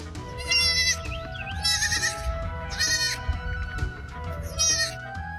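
Several loud goat bleats in bursts, wavering and nasal, spaced about a second apart, mixed with soft farmyard background noise.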